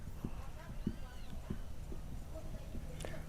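A horse canters with regular, soft hoof beats in a steady rhythm at moderate distance, while a voice murmurs faintly in the background.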